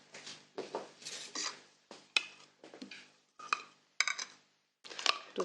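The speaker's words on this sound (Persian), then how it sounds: "دو تا روغن رو با هم مخلوط می‌کنیم" Confectionery shortening and solid fat are mixed for cookie dough, heard as repeated scraping and clinking strokes of a utensil against a bowl in short bursts with brief pauses, close and fairly quiet.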